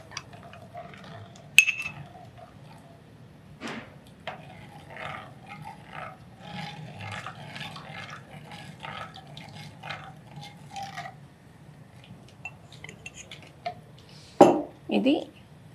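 A thick health drink being stirred in a clay pot, a steady soft scraping with sharp clinks near the start and end, while voices murmur faintly in the background.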